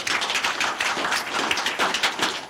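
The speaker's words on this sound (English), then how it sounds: "Make una clap for madam" People in a radio studio clap for a woman, a short, fairly loud and close patter of irregular hand claps with no talk over it.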